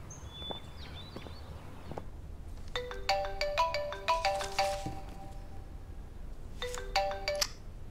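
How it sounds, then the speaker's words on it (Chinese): An incoming phone call rings as a repeated electronic ringtone melody, two bursts of chiming tones over a quiet room with faint footsteps, moderately near and not very loud, with no speech. "琳达，你给我打电话干什么？"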